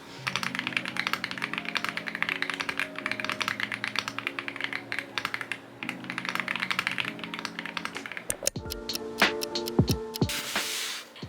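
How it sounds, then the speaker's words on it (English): Steady, rapid clacking of mechanical keyboard keys, close and continuous, shifting to sharper, sparser key presses near the end. "I want to do a typing test."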